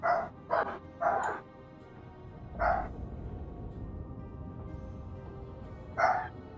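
A dog barks in short bursts, a rapid cluster of three at first, then a single bark and another a few seconds later, loud and near in a quiet room.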